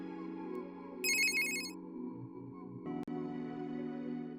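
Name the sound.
phone ringing in the video game Steins;Gate 0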